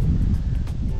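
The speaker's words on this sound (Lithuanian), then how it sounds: "Vėjelio atsirado." Wind blowing over a river during a paddleboard trip, heard as a loud, steady low rumble of wind buffeting the microphone.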